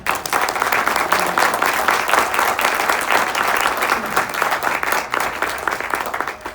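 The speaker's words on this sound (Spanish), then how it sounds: "por favor, un aplauso por su presencia" Warm round of applause from an audience at a formal legal forum, many hands clapping in a dense, steady stream for several seconds before tapering off at the end.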